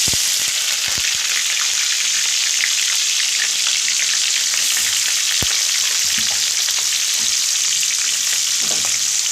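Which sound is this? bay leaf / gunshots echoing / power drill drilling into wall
bay leaf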